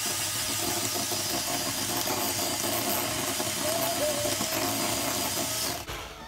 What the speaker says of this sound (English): I'm going to use the hand mixer just to mix the ingredients very good.